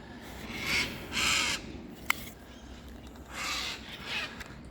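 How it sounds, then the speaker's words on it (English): Cockatoos call from trees nearby in a few harsh, raspy screeches spaced apart, moderately loud, with one sharp click in between. "cockatoos are everywhere up here."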